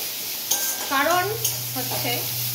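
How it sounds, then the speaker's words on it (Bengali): Onions sizzle gently in a pan for a meat dish with a few stirring scrapes, close by, while a voice murmurs briefly over a low steady hum. "আমি এখন মাংস বানানোর জন্য পেঁয়াজ ভাজছি"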